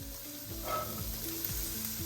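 Onions frying in olive oil in a pan give a soft, steady sizzle with faint crackling, quiet and continuous throughout, with light clinks of stirring.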